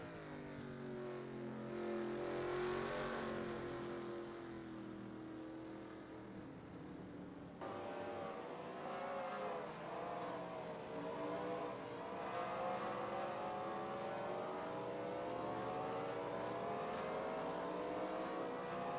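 Race cars in a NASCAR video game replay roar continuously and loudly, engine pitch climbing and sweeping as they accelerate, with an abrupt cut partway through to another steady engine drone; no voices.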